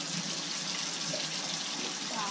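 Water pours and splashes steadily into an emptied tomato can, a continuous hissy rush from close by, with faint voices in the background.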